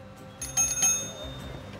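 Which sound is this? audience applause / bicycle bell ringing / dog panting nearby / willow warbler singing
bicycle bell ringing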